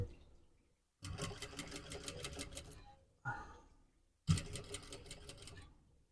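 A sewing machine stitches the fly guard of corduroy shorts in three close runs of fast, even needle chatter separated by brief silences.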